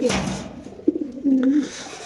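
A caged racer pigeon coos in a few soft, low, throaty phrases, close by and alone.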